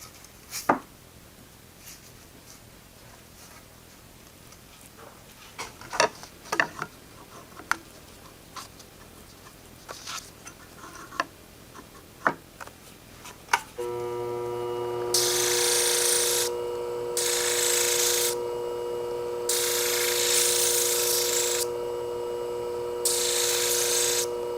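Hair scissors sharpened on a coarser abrasive: scattered light clicks and ticks, then a steady motor hum with repeated loud grinding bursts of metal on the abrasive.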